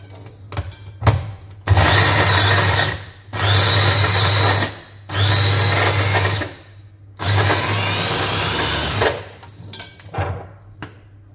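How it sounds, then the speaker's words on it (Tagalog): A kitchen blender whirs through burger ingredients in four loud bursts of about a second and a half each, separated by short pauses and small clatters. "Blender na."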